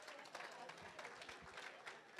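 Church congregation at a Sunday service clapping together, a faint, uneven patter of many hands with some murmuring voices mixed in.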